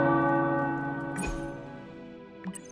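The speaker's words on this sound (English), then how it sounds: "The tower bells are ringing." Tower bells in the video game Marvel's Midnight Suns ring with a sustained, resonant tone that slowly decays, with a couple of soft knocks near the end.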